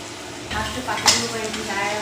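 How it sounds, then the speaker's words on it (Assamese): Spices, including cumin powder and turmeric, fry in a pan while being stirred, giving a soft sizzle with scraping strokes and a brief clink close by. "এতিয়া এইখিনি এনেকৈ অলপ দেৰি লৰাই দিম"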